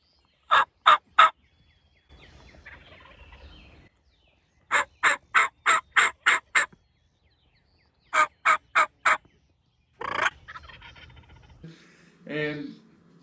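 A wild turkey gobbles during a morning hunt while birds are being located, with three bursts of loud, rapid gobbling followed by scattered outdoor rustling and handling noise between them.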